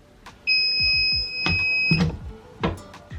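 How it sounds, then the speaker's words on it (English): A mug heat press gives a steady electronic beep lasting about a second and a half to signal it is ready, heard in a small home studio alongside scattered knocks and handling clatter. "It beeps to let you know it's ready"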